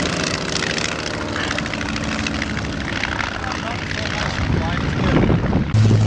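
A vintage biplane drones past at the Old Warden airshow, its propeller engine giving a loud, steady buzzing roar that swells toward the end, with someone speaking over it.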